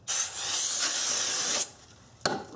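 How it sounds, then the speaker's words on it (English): Brake cleaner hisses from an aerosol can onto a brake rotor surface in one steady, close spray lasting over a second, followed after a pause by a short second burst. "Spray a bit of brake clean onto the surface"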